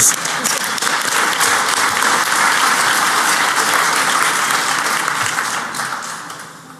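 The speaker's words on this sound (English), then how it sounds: "I'm going to give you just a huge round of applause for that." Dense, sustained applause from a large audience at the BlackHat 2013 Pwnie Awards ceremony, honoring a winner, steady and full before tapering off near the end.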